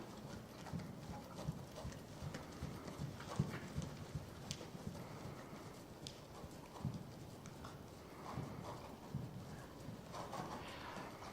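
Hoofbeats of a horse being ridden in a schooling session, steady rhythmic clip-clop at close range with continuous footfalls and no talking.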